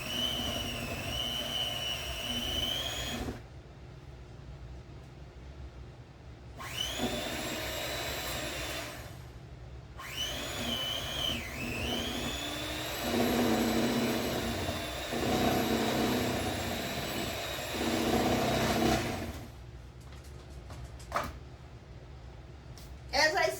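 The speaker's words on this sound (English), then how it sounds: "take your electric mixer and start it out on 1" An electric mixer whirs on its lowest speed through chocolate wacky cake batter with powdered sugar, running in three steady bursts separated by short pauses, with a voice speaking in between and over it.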